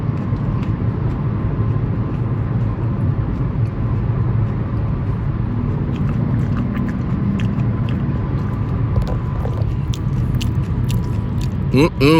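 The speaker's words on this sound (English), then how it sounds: "Eating up some M&M's." Close chewing and biting on M&M's candy, a steady crunching mash right at the mic that persists throughout, with faint background noise and a few sharper crackles near the end.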